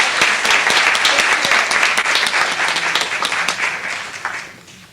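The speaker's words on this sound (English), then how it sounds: "so a big round of applause for being" Audience applause at a charity giving event, loud dense clapping from a crowd that holds steady for about four seconds before thinning out and fading at the end.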